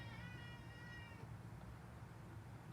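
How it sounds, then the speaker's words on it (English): A house cat cries with one drawn-out, wavering meow lasting about a second, fairly close but quiet, followed by low room hum. "Don't mind my cat that's crying right now."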